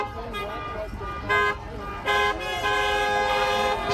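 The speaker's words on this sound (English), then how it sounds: "Honk honk." A car horn sounds in a parking lot during a trucker convoy, with several loud toots in quick succession over continuous road noise while people talk.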